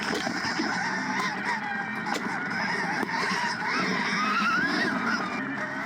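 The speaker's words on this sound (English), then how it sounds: "You can hear my KTM 300 behind me." A KTM 300 dirt bike engine being ridden on a trail at some distance, a continuous buzzing drone that rises and falls as it revs, steady throughout with no talk over it.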